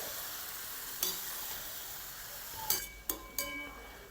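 Chicken and tomatoes cook in a karahi over a low flame, giving a soft, steady sizzle, with a few sharp clinks of a spoon against the pan near the end.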